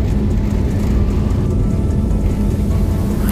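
Inside the cabin of an IndiGo airliner on a Guwahati to Delhi flight, heard from a rear seat as it starts its takeoff: a loud, steady low engine roar and rumble that holds constant throughout.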